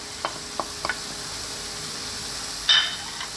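Fried tuna flakes being stirred in a pan over steady sizzling, with a few brief scrapes of the utensil and a louder clatter near the end.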